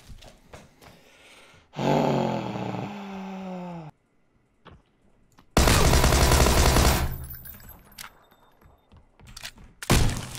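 Bursts of automatic gunfire from SCP Secret Laboratory, loud and close, firing in two long rattling volleys separated by quiet gaps, with a short final burst at the end.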